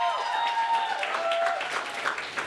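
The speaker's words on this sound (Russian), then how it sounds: "Ваши аплодисменты!" Wedding guests applaud the couple at a reception, a soft continuous patter of many hands with faint sustained musical tones in the background, steady and moderately distant.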